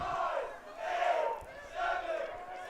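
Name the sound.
lacrosse crowd chanting down the shot clock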